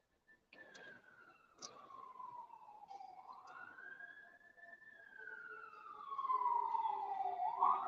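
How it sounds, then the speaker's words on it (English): An ambulance siren wails in the distance on a Saturday evening drive through Pasadena, its pitch sweeping slowly down and up in long cycles, faint at first and growing a little louder toward the end. "I hear ambulance"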